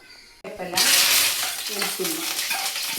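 Mustard seeds, garlic, curry leaves and chilies fry in a hot pan with a loud, close, crackling sizzle that surges in after a quiet start, while stirring adds light scraping and clinks.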